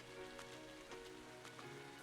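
Rain falls steadily in the video game Trails of Cold Steel, a soft continuous patter with faint in-game tones and hum underneath, no voices.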